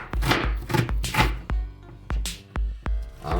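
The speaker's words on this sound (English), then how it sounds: "I am going to chop up my medium onion." A medium onion being rough-chopped by hand with a knife on a cutting board, about eight sharp, evenly spaced chops, close and fairly loud, with no talking.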